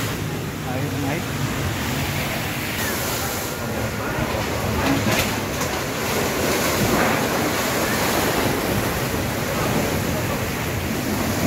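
Seawater surges over the coast and floods shoreline buildings in Fakfak, making a loud, continuous roaring wash of surf mixed with wind noise.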